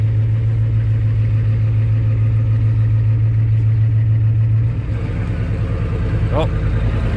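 A 7.3 IDI diesel in an old Ford F250 runs loudly and close, with a steady clattering idle that shifts to a rougher, lower drone partway through as the truck goes into gear.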